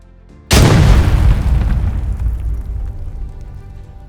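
A nuclear fusion bomb explosion erupts as a sudden massive boom after a moment of quiet, then rolls on as a loud, sustained low rumble that slowly fades.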